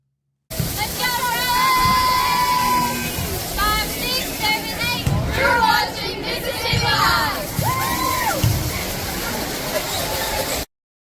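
A school cheer squad, the cheer squad of the week, shouts and cheers loudly and continuously as a crowd of young voices, with high excited yells rising over a dense roar.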